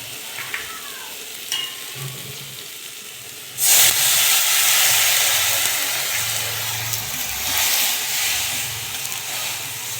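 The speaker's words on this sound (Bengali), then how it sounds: "হলুদটা দিয়ে একটু জল দেব।" Turmeric frying in oil for a Bengali vegetable curry of flat beans, eggplant and stalks, with a splash of water added partway through: a soft background sizzle suddenly bursts into a loud, steady hiss and sputter of steam that lasts to the end.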